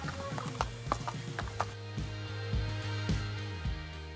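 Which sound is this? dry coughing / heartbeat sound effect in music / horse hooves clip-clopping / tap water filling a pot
horse hooves clip-clopping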